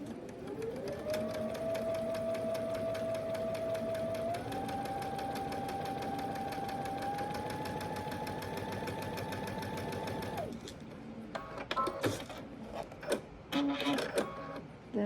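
Sewing machine stitching a quarter-inch seam on a quilt block, a steady close whirring run of about ten seconds that rises slightly in pitch, then stops, followed by clicks and handling noises.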